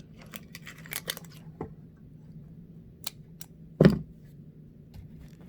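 Fabric being cut with scissors while making a homemade face mask, heard as a single close, sharp snip standing out from faint handling clatter and low room hum.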